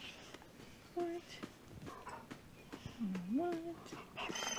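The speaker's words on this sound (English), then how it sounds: "These are my puppies." Small dogs whimper and yip in short high whines, several overlapping cries, close by, with people talking faintly in the background.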